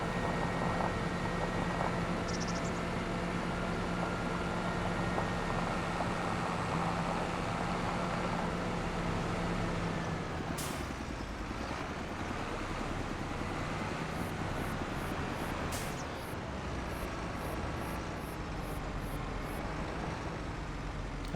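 A John Deere 4840 tractor rated at 203 horsepower, driven in Farming Simulator, drones steadily while backing up. A sharp click cuts in midway, followed by faint, evenly spaced high ticks.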